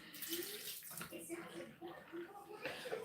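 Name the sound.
water running as child plays in bathroom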